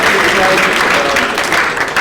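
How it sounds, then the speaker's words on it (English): Loud, dense applause from a crowd fills the space in a continuous wash of clapping, with voices mixed faintly underneath. "So, I gave a round of applause."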